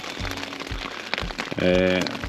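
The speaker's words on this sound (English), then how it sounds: "And as maybe you can hear there, it's raining." Rain falls steadily in the dark before sunrise, a hiss of drops under someone talking close to the microphone, with a brief tonal sound near the end.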